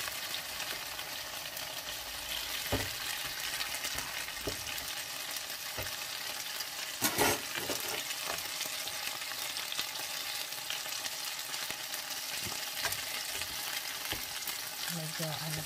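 Healthy sausages frying in a little oil in a pan, a continuous close sizzle and spatter with scattered clicks and scrapes of a utensil, one louder burst midway.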